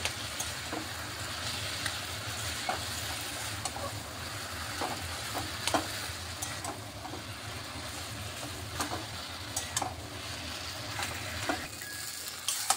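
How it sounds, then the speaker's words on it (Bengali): Mashed boiled potato and fried poppy seed paste sizzling steadily in a pan, with a continuous close hiss and scattered scraping stirs throughout, no voices. "আস্তে আস্তে ভেজে ভেজে নিচ্ছি।"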